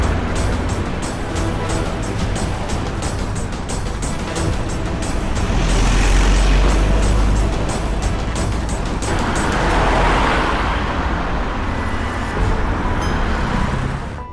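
A car pulls away in a hurry on a road, its engine a loud, continuous rumble with a swelling roar midway, up close with steady broadband road noise throughout.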